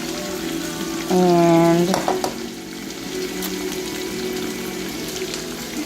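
An egg sizzles in a breakfast frying pan with a steady close hiss and pops, while a short spoken word briefly rises over the frying.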